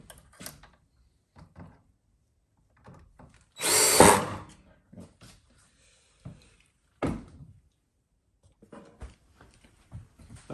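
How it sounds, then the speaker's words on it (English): Power drill driving a countersink bit into plywood, one short loud whirring burst of about a second amid scattered knocks and handling clatter. "It's not a great countersink bit. It does the job, kinda."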